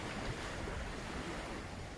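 Sea waves washing against the shore beside a seaside homestay, a steady broadband roar of surf mixed with wind noise, continuous and fairly even with no talking.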